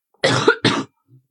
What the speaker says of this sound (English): I'm dying from this cough.